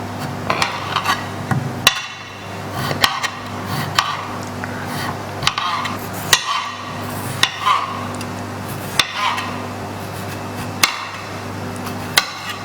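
Beetroot chopped with a knife on a cutting board for a stir-fry, sharp repeated knocks at an uneven, steady pace, close and fairly loud against a hum of background noise.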